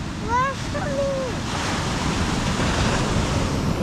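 Ocean surf at Oak Island, North Carolina, washing up toward the dunes in a steady broad roar with wind noise, a brief chirping or whistle early on, no speech.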